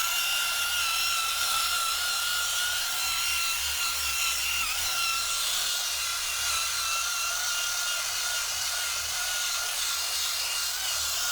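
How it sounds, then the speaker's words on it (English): A power drill spins a stiff bristle brush against a van seat, working shampoo into fabric soiled with dog vomit and hair; a steady, continuous whirring motor with scrubbing friction, close and unbroken throughout, with no talking. "Now I get my drill with my bristle and I get it in."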